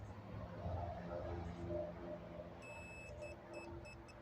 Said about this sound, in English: Hear that beeping noise?